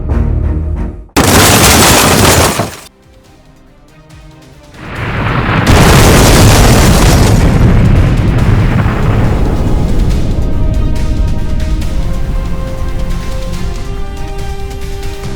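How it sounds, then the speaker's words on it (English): Loud booming blasts as a plane crashes after striking a tree during takeoff: a brief roaring burst, a short lull, then a massive explosion that rumbles on and slowly fades into sustained noise. "there's a loud explosion throughout the plane"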